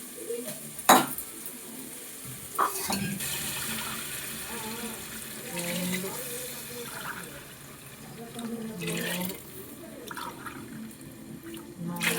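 Hot water is poured into a pot of rice, splashing and trickling over soft clinks of metal cookware, while a voice talks now and then.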